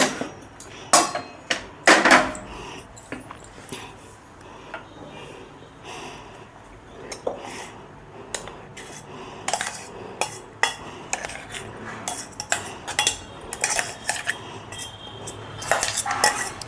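Coarsely ground chickpea paste is scraped and mixed in a bowl, with irregular clinks and knocks of a spoon against the dish, some sharp and loud, others soft scraping stirs, with no talking.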